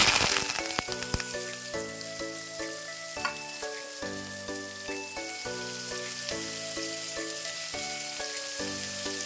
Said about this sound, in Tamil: கடுகு, கருவேப்பிலை, வெங்காயம், பச்சை மிளகாய் எல்லாம் சேர்த்தாச்சு. நல்லா ஆயிலில் நல்லா ஃப்ரை பண்ணிக்கோங்க.